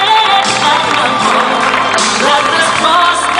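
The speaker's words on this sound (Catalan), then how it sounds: "Aquest és l'aplaudiment" A crowd at a Special Olympics ceremony in Calella applauding and cheering, dense clapping mixed with shouts and whoops, with a voice talking over the noise.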